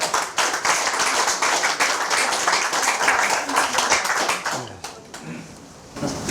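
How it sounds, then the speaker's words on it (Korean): Audience applause at a forum's founding ceremony welcoming a speaker, brisk clapping from a room of people that holds steady, thins near the end and then briefly resumes. "박수로 맞아주세요."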